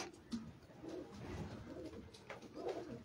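A pigeon coos softly in a low, rolling rhythm at close range, a few repeated phrases over faint background noise with no talking.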